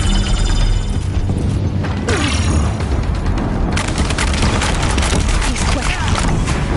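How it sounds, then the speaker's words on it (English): Deathbringer machines in Horizon Zero Dawn fire heavy, booming bursts mixed with mechanical clatter and explosions, loud and chaotic throughout, with a voice talking over part of it. "If the Deathbringers keep firing, this bridge will go."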